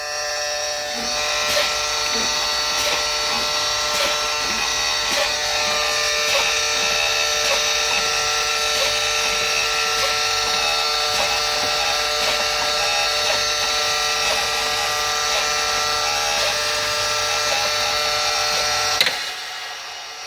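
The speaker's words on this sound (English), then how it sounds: "I'm gonna fan the brake until the parking and emergency brake knobs pop out" Truck air brakes are fanned until the parking and emergency brake knobs pop out, giving a loud, continuous hissing, buzzing drone of escaping air that runs unbroken and then cuts off near the end.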